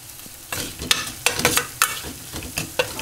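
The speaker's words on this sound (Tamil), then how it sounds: "இங்கே பார்த்தீங்கன்னா ஆனியன் வந்து நல்லா வதங்கிட்டு இருக்குது" Onions sauté in a pan for a simple home lunch, a soft steady sizzle broken by several sharp scraping strokes of a stirring spoon, close and fairly loud with no talking.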